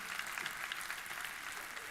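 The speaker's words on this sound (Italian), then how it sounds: "Fatevi un applauso, siete meravigliosi." A theatre audience claps together, a steady, fairly faint patter of applause sustained evenly for about two seconds.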